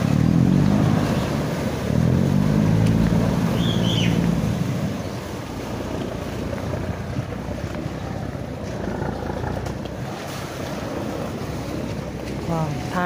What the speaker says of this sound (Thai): ก็จะเป็นท่าเรือแสนแสบนะครับ